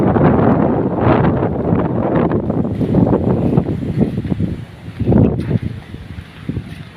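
Strong wind buffets the microphone in loud, uneven gusts, rumbling and roaring, easing briefly before surging again.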